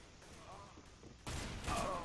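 Gunfire in the video game Counter-Strike: Global Offensive breaks out as a sudden loud burst of shots after quieter background noise, with a second blast close behind.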